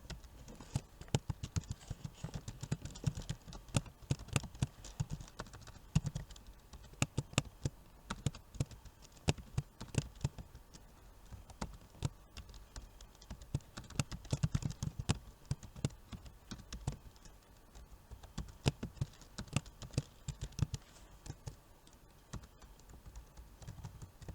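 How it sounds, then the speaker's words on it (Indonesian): Rapid, uneven keystrokes on a computer keyboard fill the whole stretch, a close, steady clatter of taps with brief pauses and no talking. "Kami mulai mengetik."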